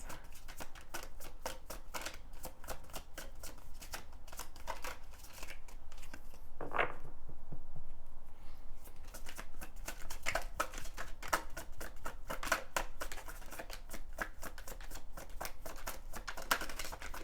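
Tarot cards shuffled by hand during a love reading, a long run of quick riffling and slapping card sounds, close and steady with one brief swell partway through.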